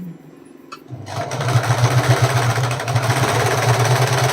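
Sewing machine stitching a saree, starting after a quiet moment and then running in a loud, steady rapid mechanical chatter of needle strokes.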